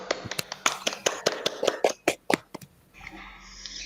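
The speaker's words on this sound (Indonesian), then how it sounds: "Beri tepuk tangan buat Hasna dan kelompok 1." A classroom claps for a student group after a presentation. About fifteen sharp, separate claps come in an uneven rhythm from a few people nearby, then fade into quieter room sound.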